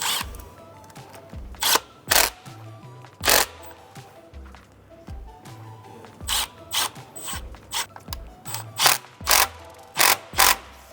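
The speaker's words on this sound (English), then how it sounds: "an 8mm socket or a flathead screwdriver can tighten these down" Hose clamp on a 2022+ VW GTI Mk8 charge pipe being tightened with an 8mm socket, giving a series of short, close ratcheting clicks in irregular bursts, louder and more frequent toward the end, with no talking.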